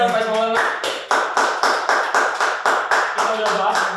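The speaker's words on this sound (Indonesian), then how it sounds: "Beri tepuk tangan teman-teman Faiz Maulana." Audience clapping at an event-creator talk show, a steady rhythmic patter of hands after a brief voice at the start, fairly loud and close.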